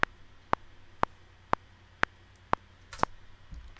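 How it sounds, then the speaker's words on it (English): A recording interface plays a click track at a set BPM: sharp, evenly spaced clicks about twice a second, fairly quiet and alone over a faint hiss. "If I press play now, you will hear a click track"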